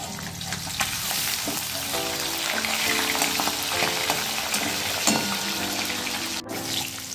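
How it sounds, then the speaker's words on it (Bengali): Fish fries in hot oil in a home kitchen, a dense steady crackling sizzle with occasional bubbling pops and a sharp clink near the end. "এই দেখো মাছ ভেজে নিচ্ছি"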